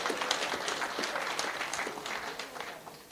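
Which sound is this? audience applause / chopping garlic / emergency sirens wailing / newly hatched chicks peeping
audience applause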